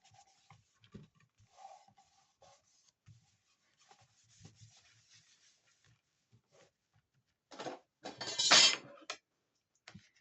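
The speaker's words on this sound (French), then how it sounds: "Désolée pour le bruit, c'est la règle qui vient de tomber." A brief clattering knock of a ruler dropping onto a tabletop, loud against a quiet background of faint rustling.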